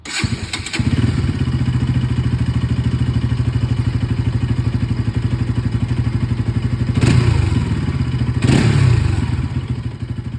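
A motorcycle engine idles steadily with a low chugging rumble, punctuated by a couple of louder rattling clunks near the end.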